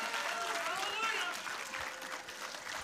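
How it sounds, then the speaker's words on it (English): Church congregation applauding during a Sunday worship service on Valentine's Day, a steady broad wash of clapping filling the room for a few seconds without letting up. "Come on, let's give the Lord applause on Valentine's Day."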